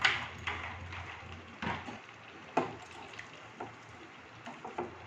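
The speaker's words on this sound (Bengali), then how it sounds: "একটুখানি জল দিয়ে দিলাম।" Splash of water added to ginger and ghee spice paste frying in a pan for labra khichuri, giving a short hiss and sputter with scattered clinks and scrapes against steady kitchen background noise, no talking.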